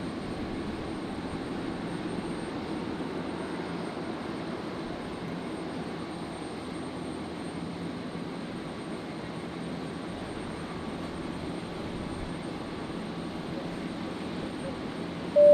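Jet airliner taking off from runway 01 right at Brisbane Airport, a steady distant engine roar holding at an even level throughout with no talk over it.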